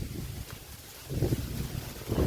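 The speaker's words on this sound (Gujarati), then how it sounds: "પવન જોરદાર છે અને વરસાદ પણ ચાલુ છે" Strong gusts of wind during a rainstorm buffet the microphone in low rumbling surges, rising and falling, with no voices.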